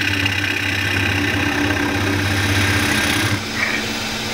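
A wood lathe spins steadily as a turning gouge is eased into a bowl blank, giving a loud, constant motor hum with a faint cutting hiss that drops slightly near the end.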